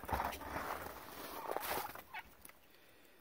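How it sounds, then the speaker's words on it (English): Several turkeys gobble in bursts, fairly close, with scattered clucks and rustling between calls outside a forge in winter; the gobbling fades toward the end. "I've got turkeys galore over here."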